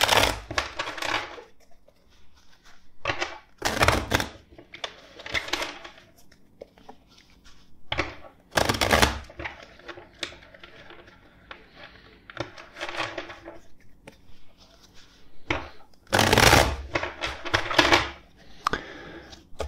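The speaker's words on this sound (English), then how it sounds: "Let's shuffle the deck four times for you." Repeated bursts of tarot card shuffling, riffles and crisp slaps of cards coming in irregular bunches with quiet pauses between, close by.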